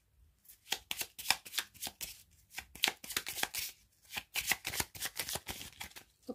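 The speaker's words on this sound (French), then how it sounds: "j'ai du mal à mélanger ces petites cartes" Small tarot cards being shuffled by hand, a close run of crisp riffling snaps in quick irregular bursts with brief pauses, loud and alone without any voice.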